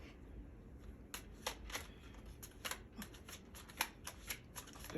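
Tarot cards are shuffled for a reading in a run of quick, crisp riffling taps, fairly close and soft, over a low background rumble.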